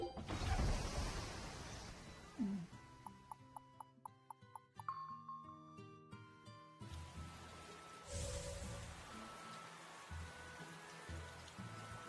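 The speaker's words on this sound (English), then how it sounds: "It's raining." Rain in the video game Tales of Berseria: a soft, continuous patter of falling rain, interrupted midway by a short run of chiming, ticking game tones, then the steady rain returns.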